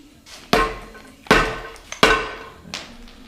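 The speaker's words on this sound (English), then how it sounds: "Just try hitting it with the hammer." Four sharp metal-on-metal hammer blows strike a part on a junkyard 6.0 LQ4 engine during a teardown, each a bright ringing clang with a short decaying tail, spaced unevenly about a second apart.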